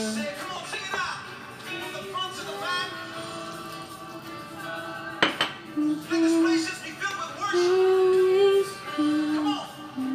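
Glutinous rice flour batter with vanilla extract being stirred in a bowl for buchi and palitaw, with light clinks and scrapes of a utensil against the bowl under a talking voice.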